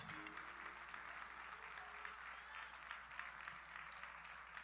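Church congregation applauding in praise of Jesus during a sermon, a continuous wash of many hands clapping at moderate distance, fairly faint and steady for a few seconds with no spoken words.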